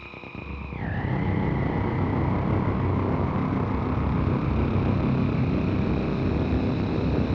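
Steady pink noise run through a filter and an opposite-side stereo delay, hitting the right ear first and the left 31 milliseconds later; a brief swept tone at the start gives way to a constant broadband hiss that holds evenly throughout.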